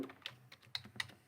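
Computer keyboard typing in a quiet room: a few light, irregular key clicks, close and soft, with no voices.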